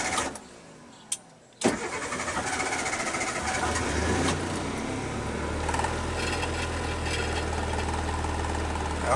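A Suzuki Samurai's engine cranks over with a sharp start after a couple of quiet clicks, then settles into a steady, slightly rough mid-pitched idle that runs loud and close for the rest of the clip.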